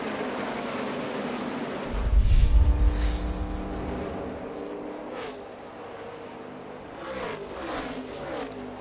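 NASCAR Xfinity race cars roar past at Darlington, a loud engine surge rising and fading with a deep rumble, then more cars droning by more faintly in the distance.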